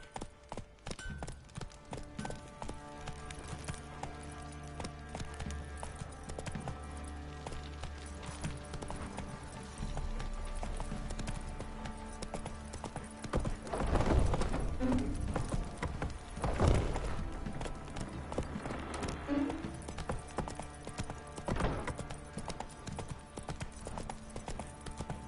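Hoofbeats of a horse in The Witcher 3 video game, a soft rhythmic clip-clop under game ambience, growing louder and heavier in the second half with a few sharper thuds.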